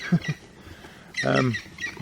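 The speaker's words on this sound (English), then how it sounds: "Woodpecker shouting his head off." A woodpecker calling loudly near a riverbank fishing spot in the evening, a couple of short sharp squawks followed by a longer harsh burst, with no talk.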